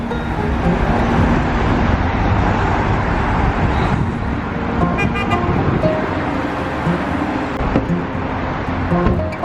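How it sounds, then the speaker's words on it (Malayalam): Busy morning road traffic in Baku, Azerbaijan: a loud, steady roar of passing cars, broken by short car-horn toots around the middle and again near the end. "9 o'clock ആയപ്പോഴും റോഡിലൊക്കെ വണ്ടികളൊക്കെ നിറഞ്ഞു കേട്ടോ"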